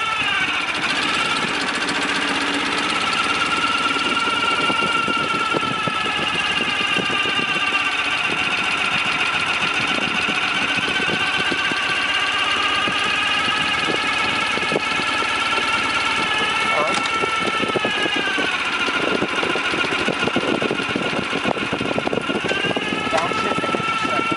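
A Ural Gear-Up sidecar motorcycle engine runs steadily in gear, a loud, continuous close drone with a slight rise and fall in pitch throughout.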